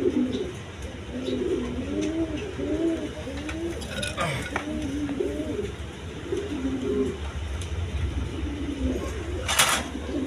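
Pigeons coo continuously in a loft where pairs of colour-marked birds are kept, their soft rolling calls overlapping close by with a brief flutter near the end.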